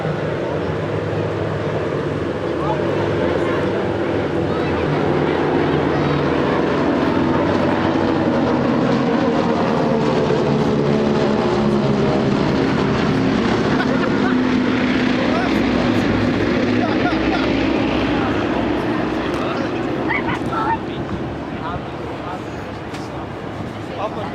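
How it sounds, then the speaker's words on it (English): Classic propeller aircraft, a DC-3 leading three smaller planes in formation at the Scottish Airshow 2018, their engines a steady, loud droning roar that swells and slowly shifts pitch as they pass, with a voice talking over it. "So this is the Swiss Classic formation. The larger of the aircraft you see is a DC-3"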